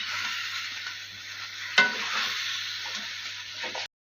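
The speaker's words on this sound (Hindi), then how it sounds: "इसे डालकर हमने 2 मिनट भून लेना इसी तरह तेज आंच पे" Spices for mutton korma stir-fry on high heat with a bright, constant sizzle, close and steady, marked by one sharp scrape or clatter of the spoon midway, with no talking.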